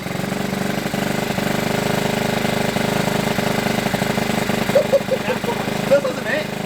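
A Honda CT70 motorcycle fitted with an 88cc big bore kit and big head runs at a steady idle with a regular thumping pulse, loud and close, with a couple of brief revs near the end.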